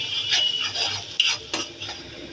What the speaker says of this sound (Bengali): এখন এটা সুন্দর করে ভেজে নিব।